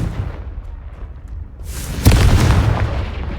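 A Confringo blasting spell bursts in the Hogwarts Legacy video game: a faint rumble, then a sudden loud boom at close range that holds on as a dense, roaring blast.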